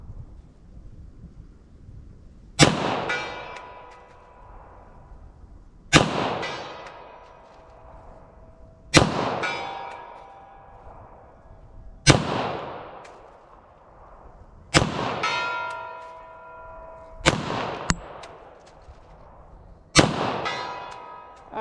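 Pistol firing .40 S&W and 9mm+P rounds outdoors, seven single loud sharp shots spaced a few seconds apart, each followed by a rolling echo that fades away.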